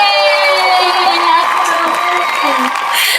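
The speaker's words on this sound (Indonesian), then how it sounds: "Tepuk tangan dong." Students at a high school event cheer and whoop loudly as a crowd, a dense sustained wall of voices lasting a few seconds.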